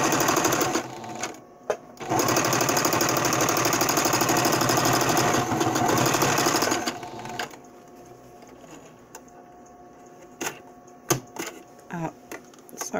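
A sewing machine stitches the folded edge of a fabric face mask, running loud and steady for several seconds with a brief pause early on, then dropping to quieter intermittent clicks and short bursts of stitching.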